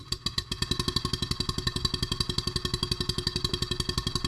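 A refurbished Stuart 7A model steam engine drives a small generator, bolted down tight, making a steady rapid chuffing clatter of evenly spaced beats, loud and close, running alone with no talk.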